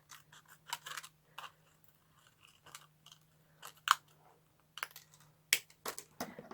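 Scissors snip through a clear plastic shaker dome, trimming it to size with a rim left around the edge: a series of close, crisp, irregular crunchy cuts separated by short pauses.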